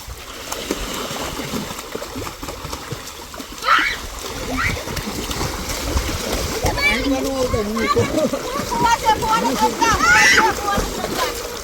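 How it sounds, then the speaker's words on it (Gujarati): Water splashes and sloshes repeatedly in a pool while children shout and chatter, with loud bursts of splashing throughout. "પાણી નહીં ઉડાડવાનું પાણી નહીં ઉડાડતા"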